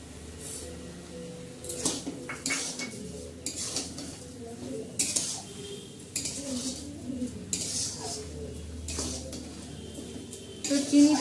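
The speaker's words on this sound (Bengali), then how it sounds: "চিনিটা দিয়েও আমি কিছুক্ষণ আবার নাড়াচাড়া করব" A spoon scrapes and clinks against a pan as carrot halwa cooks with sugar, in irregular stirring strokes with metallic knocks. A voice speaks at times underneath.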